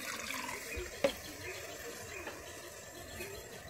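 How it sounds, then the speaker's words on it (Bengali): Cold water runs over boiled eggs in a kitchen, a faint steady trickle and splash with one brief knock partway through. "আমি ডিমের মধ্যে এবার ঠান্ডা জল দিয়ে দিচ্ছি যাতে ডিমটা তাড়াতাড়ি ঠান্ডা হয়ে যায়।"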